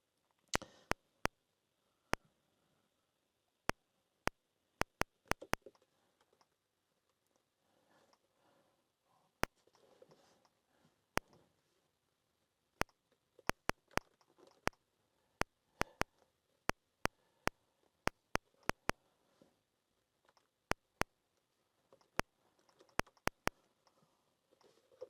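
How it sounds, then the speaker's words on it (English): Keys on a ZX Spectrum home computer keyboard are pressed in irregular bursts of sharp, light clicks and taps, close up against a quiet background with pauses between keystrokes. "Now you'll notice that I am actually typing in now."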